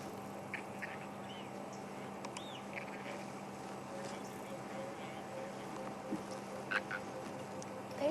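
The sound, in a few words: cheetah cubs' contact call, like tree frogs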